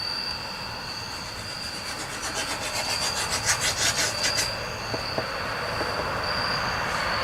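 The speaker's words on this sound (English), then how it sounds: "So what I'm going to do is go ahead and trim this glue off." A blade scraping excess glue off a glued and clamped wood joint, a steady rasping rub with a brief run of rhythmic strokes midway, over constant background hiss.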